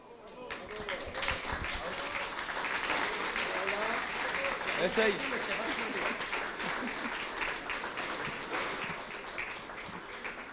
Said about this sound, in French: on n'avait pas besoin d'intensifier par les applaudissements